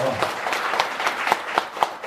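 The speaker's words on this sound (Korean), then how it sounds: "자, 큰 박수 부탁합니다" An audience at a temple's Wednesday lecture applauds to welcome a visiting doctor lecturing on the Lotus Sutra, steady clapping with sharper individual claps, heard close and moderately loud with speech mixed in.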